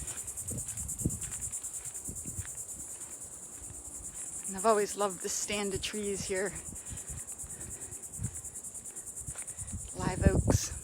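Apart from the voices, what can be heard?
cicadas chirping among live oaks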